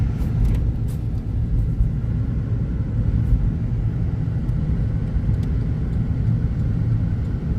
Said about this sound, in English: we're letting the car heat up and then we're gonna head out